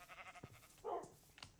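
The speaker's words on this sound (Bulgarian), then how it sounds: "пак овца е" Minecraft sheep give one short bleat mid-clip, faint and game-like, between soft low thumps, with no voices over it.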